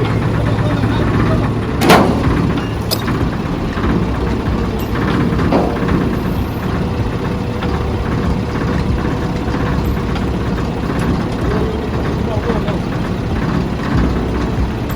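A truck's heavy diesel engine idles steadily as a trailer arrives, a constant low rumble that stays close and loud for the whole stretch, with a few faint clanks and a voice speaking over it.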